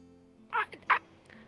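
Two short squawking bird calls from a video game creature, the second slightly louder, with a faint game music hum beneath and a soft chirp trailing after.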